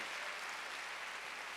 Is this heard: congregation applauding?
yes